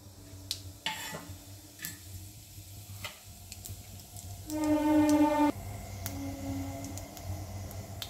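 Cumin seeds crackle in hot oil with a split dried red chilli for a water chestnut curry, giving scattered sharp pops and ticks over a low steady sizzle, with a brief buzzing tone in the middle.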